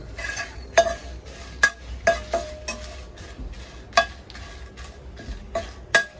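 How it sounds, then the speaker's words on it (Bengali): Dry red chillies being lightly fried in a frying pan, soft faint sizzle under repeated sharp clinks and scrapes of a spatula stirring against the metal pan. "খুব বেশি না, হালকা করে মরিচগুলো ভেজে নেব।"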